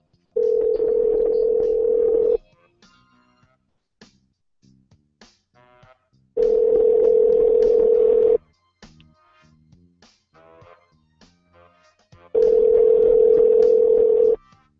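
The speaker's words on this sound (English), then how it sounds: "Phones just ringing and voicemails picking up" A telephone line rings on a prank call, three long steady electronic tones about two seconds each separated by quiet gaps, loud and alone.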